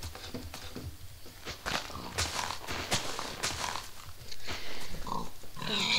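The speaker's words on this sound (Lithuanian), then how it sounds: "O, dar vieną kiaulę." A pig grunts and oinks in the Minecraft video game, several short snorts scattered among footstep-like taps and game clicks, moderately close, with no talk.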